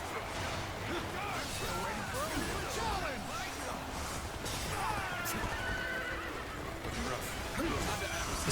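A horse neighs amid the battle din of the Dynasty Warriors Origins video game at Changban, whinnies rising over constant crowd noise, clashing and hoofbeats, with game voices mixed in.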